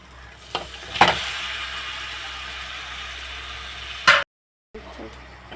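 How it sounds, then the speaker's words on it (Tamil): Chicken pieces go into a pan of sautéed onions and tomatoes for a chicken curry. A soft frying hiss runs steadily, broken by a couple of sharp clatters and stir scrapes, then a brief dropout before the sizzle resumes. "நம்ம தக்காளி போட்டது நல்லா வதங்கிட்டு இப்போ கழுவி வச்சா 1/2 கிலோ சிக்கன்"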